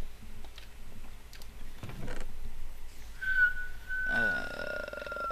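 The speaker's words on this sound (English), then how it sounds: "Stop whistling, it's gonna be annoying for the people who are watching" A person whistles a sustained, wavering high tone in a Minecraft multiplayer session, preceded by scattered clicks and background murmur.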